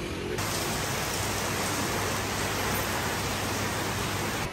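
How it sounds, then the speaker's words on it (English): Heavy rain pours down in Cambodia, a dense, even hiss that starts abruptly and stays loud and constant throughout, with no voices. "For the first time on our trip, it is raining in Asia."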